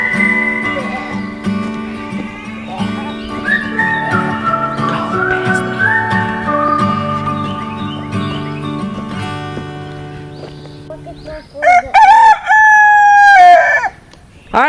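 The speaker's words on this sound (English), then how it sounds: "Let's bring these chickens some treats and collect some eggs." A homestead flock of chickens clucks and chatters loudly at close range, and a rooster then breaks in with a strong, drawn-out crow near the end.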